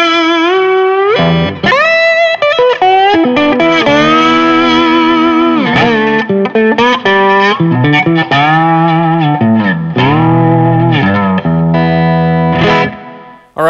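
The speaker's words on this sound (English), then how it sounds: "now I'm going to go to a slow attack, and you should be able to hear more of the initial impact and authority of those notes" Electric guitar through a compressor set to a slow attack, fuller note impact: a distorted, effects-laden lead line with bends and sustained notes, loud and continuous, close and alone.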